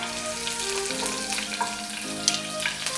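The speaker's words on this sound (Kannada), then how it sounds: "ಹಸಿಮೆಣಸಿನಕಾಯಿ ಹಾಕಿ ಸ್ವಲ್ಪ ಬಾಡಿಸ್ಕೊಳ್ಳೋಣ" Chopped green chillies fry in a few spoons of hot oil in a heated pan, a dense, steady sizzle with crackling pops and occasional clinks, close and continuous with no talking.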